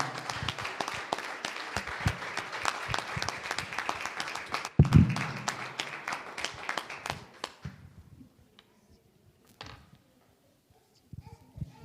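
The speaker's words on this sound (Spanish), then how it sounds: "Lo recibimos con un fuerte aplauso" A church congregation applauds to welcome a speaker, brisk clapping filling the hall for about seven seconds before tapering off into scattered claps and near silence.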